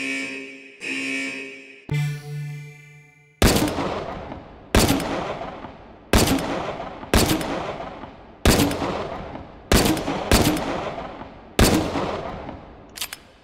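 Gunfire at silhouette targets in the virtual reality game H3VR, about nine loud, sharp shots spaced roughly evenly, each with a decaying tail, after a few brief mechanical tones at the start.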